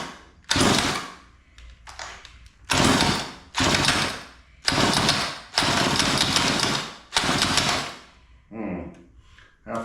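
A 1970s Homelite chainsaw, left outside for years, is pull-started on choke: a series of loud, rhythmic bursts about a second long with short gaps between them, each rasping pull or brief firing attempt close up.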